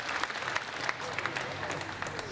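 Spectators at a table tennis doubles match at the 2014 Australian Open applaud after a long rally, a steady, fairly quiet patter of clapping across the hall with crowd murmur beneath.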